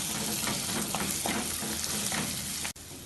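Tomatoes sautéing in a pan with turmeric, chilli and coriander powders for Kerala chatti choru, giving a steady, close hiss of frying with soft stirring scrapes that cuts off near the end.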